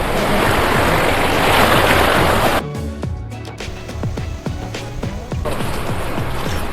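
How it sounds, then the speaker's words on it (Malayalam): A fast-flowing tributary of the Kallada river in Kerala rushes with a steady, loud broadband roar, briefly dipping into gurgling, splashing water sounds midway before the full rush returns; no voices. "ഈ ഒഴുകിക്കൊണ്ടിരിക്കുന്നതാണ് കല്ലടയാറ്"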